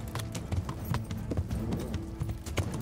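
Horse hooves clip-clopping steadily in the medieval video game Kingdom Come: Deliverance, rapid rhythmic thuds over a dense ambient background, fairly close, no talk.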